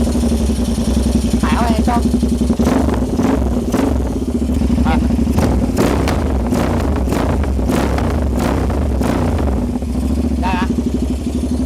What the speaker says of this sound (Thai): ท่อยิงสดก็จะออกมาประมาณอย่างนี้ครับ